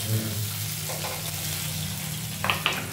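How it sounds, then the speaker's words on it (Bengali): Dried and green chillies crackle in a panch phoron tempering, a steady close frying hiss with a few sharp pops near the end; no talk. "পাঁচফোড়নের মধ্যে মা দিয়ে দিল শুকনো লঙ্কা আর দিল কাঁচা লঙ্কা"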